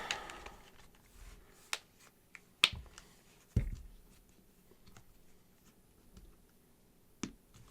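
A fake OtterBox Defender case, soft rubber outer layer over a hard plastic shell, is pressed onto a phone with several sharp separate snaps and clicks spread across quiet pauses, plus soft handling rustle.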